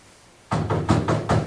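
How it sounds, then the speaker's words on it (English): Loud knocking on a door by police, four firm raps in an even rhythm, close by, with no talking. "Knock on the door again, they're not going to answer the door."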